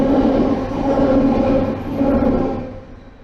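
An express train rushes through a railway station at Ashton-under-Lyne, a loud, steady roar with rumbling wheels and rail noise that holds close and then fades away at the end.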